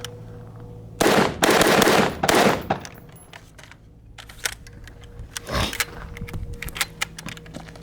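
An ACR rifle fires five rounds, loud sharp reports with one burst close together near the start and more spaced shots after, followed by faint mechanical clicks and handling noises.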